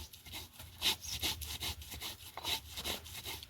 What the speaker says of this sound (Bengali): আর আমি আগে থেকে একটু আতপ চাল ভিজিয়ে রেখেছিলাম, সেগুলো শিলে ফেলে বেটে নিচ্ছি।